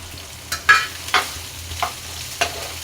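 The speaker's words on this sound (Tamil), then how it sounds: "நம்ம அரிஞ்சு வச்சுருக்க வெங்காயம், பச்சை மிளகா, இஞ்சி 3 போட்டு நல்லா வதக்கிக்கணும்" Chopped onion, green chilli and ginger sauté in hot oil in a pan, a steady soft sizzle broken by five or six sharp spoon scrapes and stirs at uneven intervals, close by with no talking.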